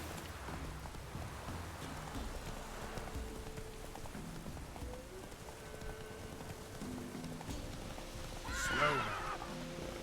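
A horse in The Witcher 3 video game neighs loudly near the end, following a stretch of hooves clopping under steady rain and ambient game sounds.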